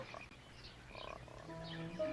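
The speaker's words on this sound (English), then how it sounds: "What's that noise? What? You mean the frog? Frog make noise?" A frog croaks in short, faint, repeated calls against a quiet outdoor background, with no voices.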